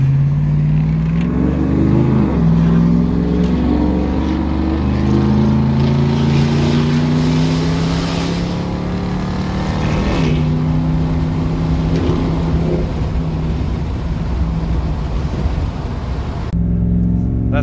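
A straight-piped 4th gen Cummins diesel dually with a 4-inch exhaust and 12-valve swap drones heavily from inside the closed cab, its deep tone sweeping up and down through gear changes over a steady road rumble.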